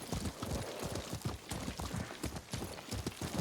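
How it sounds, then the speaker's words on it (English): Horse hooves clip-clopping in a video game, a fast steady gallop of quick close thuds repeating throughout, fairly faint in the mix. "What a good horse."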